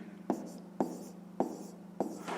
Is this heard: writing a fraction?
yes